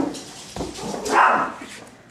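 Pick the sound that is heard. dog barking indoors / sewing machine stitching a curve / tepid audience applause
dog barking indoors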